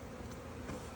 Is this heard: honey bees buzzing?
yes